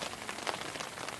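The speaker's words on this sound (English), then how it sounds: "this piddling rain that has just started again on us just before dark" Light rain pattering steadily outdoors just before dark, a soft, even hiss of drops on surfaces with no talk.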